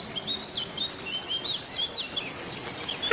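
High chirps and quick twittering trills from baya weaver birds around a nest in a tree, repeating in short bursts close by over faint outdoor ambience, with no voices.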